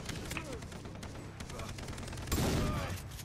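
Shotgun blasts and rattling gunfire in the video game Far Cry 3 pile up in a busy, continuous volley, with a heavier burst near the end, while players talk over the game action.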